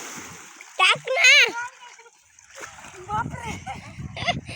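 Someone jumps into river water, and a rough burst of splashing and sloshing follows, close and fairly loud, mixed with excited voices talking and exclaiming.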